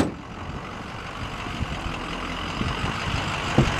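A tow truck's good-running 6-liter engine idles steadily nearby, a low continuous rumble with faint mechanical knocks and a brief clank near the end.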